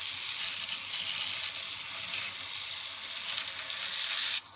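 A 2x72 belt grinder running at its slowest variable speed sharpens a curved gouge, giving a steady, close abrasive hiss that holds evenly and then cuts off abruptly near the end.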